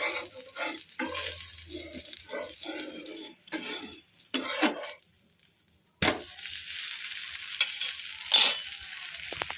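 Ragi (millet) dosa frying in oil on a pan, a soft sizzle broken by scraping and clinks of a utensil, then a steadier, louder hiss once more oil goes on.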